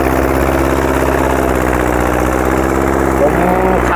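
A farm vehicle's engine idles loudly and steadily up close, a constant mechanical drone with low vibration throughout, with a voice faintly audible beneath it.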